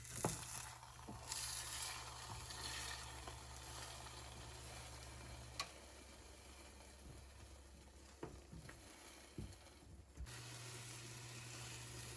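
A spicy red pepper mix fries in a pan, giving a steady, close sizzle that holds evenly throughout, with a few soft clicks and a short dip in the middle.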